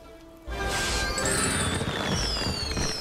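Fireworks reward effect from the Skylanders Trap Team video game: a sudden crackling burst with whistling streaks starts about half a second in and keeps fizzing and popping loudly to the end.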